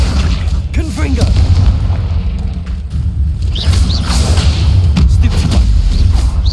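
A Confringo blasting spell detonates in Hogwarts Legacy, a loud booming blast over a continuous low rumble of game combat, with chanted spell incantations and other voices spoken around it.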